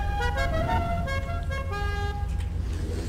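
Car horns honk repeatedly during a street race in the video game GTA V, with overlapping bright toots over a steady engine and traffic rumble.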